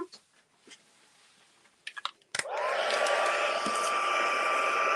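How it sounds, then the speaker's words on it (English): A heat embossing tool switches on after some faint handling noises, then blows hot air with a loud, steady whir and a constant whine that continues to the end. "I'm going to come in with those tweezers and our heat tool."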